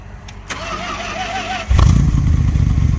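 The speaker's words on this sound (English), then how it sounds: "Couple cranks, fired right up." A 1970s Dodge street machine van's engine cranks briefly, then fires up with a sudden loud, rumbling roar that holds steady at close range.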